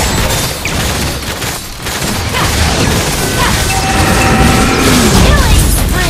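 In a video game, a turret is destroyed amid loud, dense crashing blasts and mechanical clatter that continue without pause under a busy battle mix.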